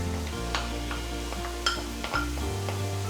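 Bacon, celery and onion frying in a pan, a soft continuous sizzle with occasional clinks and scrapes of stirring, close and moderately quiet.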